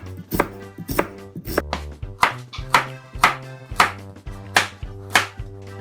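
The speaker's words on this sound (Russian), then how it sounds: "А пока нарежем лук и морковь достаточно крупно." Onion and carrot are chopped coarsely with a knife on a board, about a dozen loud, close, fairly regular thuds with ringing board tones, no voices.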